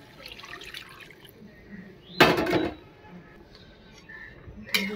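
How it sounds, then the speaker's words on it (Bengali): Water is poured into a pan of browned chicken pieces being cooked as a curry, a short loud splash and sizzle in the middle with a brief second burst at the end, over low kitchen background. "এবার দিয়ে দেবো এখানে জল,"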